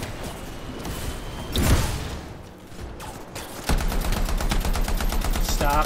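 Enemy gunfire in the video game Anthem, a burst of sharp shots and a whoosh giving way to rapid, loud machine-gun-like rattling near the end.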